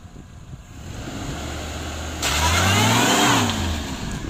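A 1996 Daihatsu Espass with a 1.6 engine revs up from a rough idle, the engine note swelling and climbing loudly before easing back, heard close with no talk.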